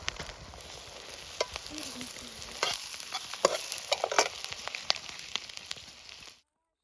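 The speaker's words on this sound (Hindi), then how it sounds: "अब इसमें हम फ्राई कर लेंगे प्याज, इसी तेल में जिस तेल में हमने अंडे फ्राई किए हैं।" Onions fry in the same oil used for frying eggs, giving a steady close sizzle with scattered crackles and stirring clatter, all without talk and cutting off near the end, while cooking outdoors in a garden.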